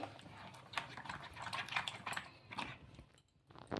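Idli rava batter being stirred with water and curd in a bowl, giving a steady run of soft, wet scraping and slapping strokes close by, briefly pausing near the end.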